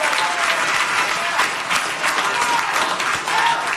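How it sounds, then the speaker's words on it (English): A large live audience applauds loudly and continuously, a dense wash of clapping with scattered cheers, close and steady from start to finish. "I mean, the room explodes. Everybody's standing and cheering for this guy."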